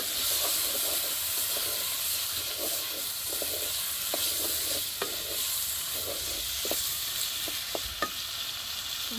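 Spices are sautéed in a pan for a meat dish in a village kitchen, a soft steady hiss and sizzle with scattered light scrapes and taps of stirring throughout, no talking.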